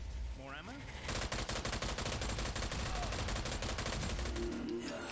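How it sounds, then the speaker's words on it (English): Sustained automatic gunfire from enemies in the video game Strange Brigade, a dense rapid rattle of shots filling several seconds after a brief lead-in, loud and continuous, with a voice briefly heard at the start. "they're still shooting, throwing shit at us"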